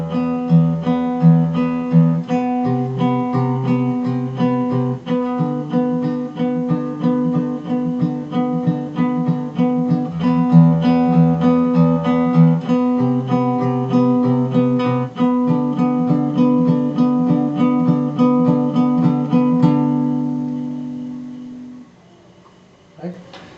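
A guitar plays a fingerpicking exercise using the thumb and index finger. Steady, repeating plucked notes alternate between bass and treble strings in an even rhythm, then the last chord rings out and fades.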